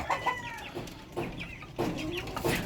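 Backyard oriental chickens cluck and murmur in short, soft bursts, fairly close and steady, with several birds calling over a faint background.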